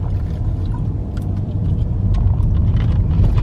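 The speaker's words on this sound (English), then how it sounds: "now I'm going to have a car behind me." Car rolling along a street of old houses in Cumberland, Maryland, a steady low rumble of engine and tyres, close and continuous, gradually growing slightly louder.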